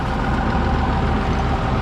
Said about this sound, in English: you gotta shut the tractor off